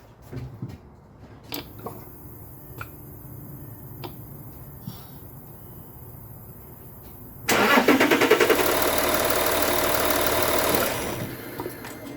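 A VW Touareg 3.0 TDI diesel engine cranks and catches on a cold start after a fuel filter change, then settles into a loud, steady idle for several seconds before dropping slightly, following some faint clicks and handling noises.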